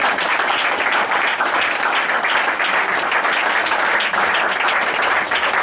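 A church congregation applauds the Lord in a dense, sustained burst of clapping that continues evenly throughout, loud and close, with no break or talk over it.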